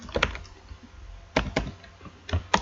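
Keystrokes on a computer keyboard while entering Python code, with short bursts of two or three close clicks separated by quiet pauses.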